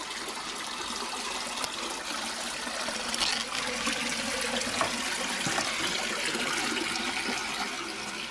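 Water steadily leaks out of the bottom drain of a Tempest grow-on fish tank: a continuous close trickle and splashing that holds at an even level throughout.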